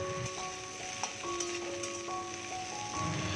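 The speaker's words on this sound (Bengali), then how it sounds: "কড়াইতে আবারও একটুখানি সামান্য তেল দিয়ে উচ্ছেগুলো একটু সময় নিয়ে ভাজবো।" Bitter gourd pieces frying in a little oil in a wok, a soft steady sizzle with faint stirring taps, close and quiet, with no voices.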